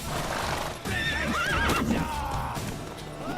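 Horses in The Witcher 3: Wild Hunt whinny loudly over the din of a fight, with clopping hooves and metallic clashes beneath and no talking.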